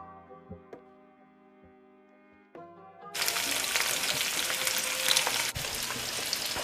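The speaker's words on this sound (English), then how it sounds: "when you're putting your salmon in the pan, make sure it's the skin side down as well" Salmon is laid skin side down in a hot pan, quiet kitchen clinks and a low hum giving way after about three seconds to a loud, steady broadband sizzle that continues to the end.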